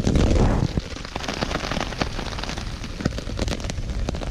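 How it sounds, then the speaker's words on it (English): Rain patters on a tent during October wild camping. Dense, irregular taps and drips run throughout, close and moderately loud, with a heavier muffled rustle at the start. "It's raining quite a bit, you can hear."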